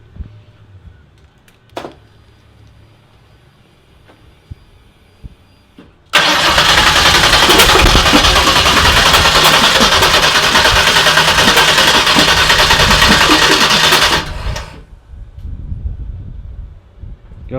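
A car engine is started for the first time after a build. Quiet clicks and rattles come first, then the engine catches and runs loudly and steadily for about eight seconds before dropping to a softer idle.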